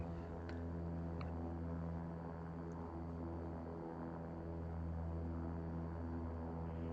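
Propeller engines of a King Air 350 in the X-Plane 11 flight simulator make a loud, steady droning hum that holds level and unbroken throughout, with a few faint clicks on top.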